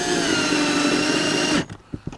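A power drill drives a coated decking screw into a siding clip on thermally modified wood cladding, a loud close steady whir for about a second and a half, then cutting off, followed by a few clicks and taps.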